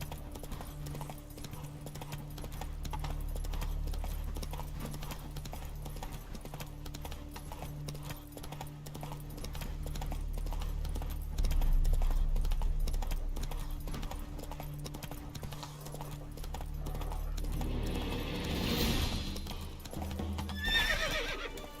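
Roach, the horse in The Witcher 3, gallops with a steady, rapid clip-clop of hooves that runs throughout over a low ambient game score.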